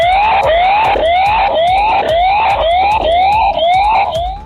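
A loud electronic siren wails in rapid repeating rising sweeps, about eight cycles, sounded near a sugarcane field in Thadagam, Coimbatore district, to drive off elephants raiding the crop.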